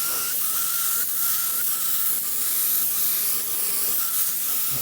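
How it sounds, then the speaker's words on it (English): A paint spray gun lays down a sample of Midnight Purple 2 base coat, a continuous close hiss with a faint whistle running steadily throughout and only slight swells in intensity. "Now it's time to spray out a sample of the color that Craig chose."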